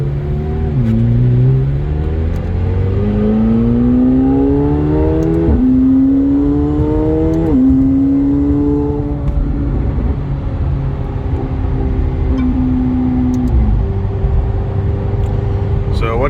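A McLaren 720S fitted with Weistec W3 turbos, downpipes and exhaust pulls hard through rising gears, the engine note climbing and dropping with each shift, loud and close from inside the car, with people talking over it.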